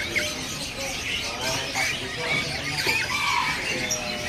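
Kacer birds, magpie robins, call in a busy Indonesian bird shop, their shrill chirps and squeaky whistles overlapping through a constant hubbub of nearby voices and shop noise.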